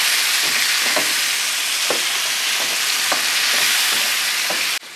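Loud, steady frying sizzle of a liver karahi as four tomatoes are added, with rhythmic scraping stirs about once a second and a sudden drop in hiss near the end.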